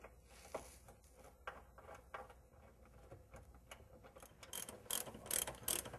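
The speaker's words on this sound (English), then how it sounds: "Install the upper nut and the washer." Ratcheting clicks from a wrench tightening the upper nut and washer on a new shock absorber during a shock and strut replacement, a steady series of close mechanical ticks growing louder toward the end, with no talking.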